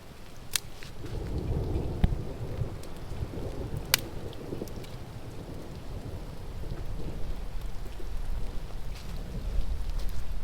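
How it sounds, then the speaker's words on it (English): Pouring rain drums steadily on a forest campsite, a dense hiss with low rumbling, a few sharp cracks of thunder or snapping drops, and no voices. "it looks like it's gonna be raining for a little bit longer"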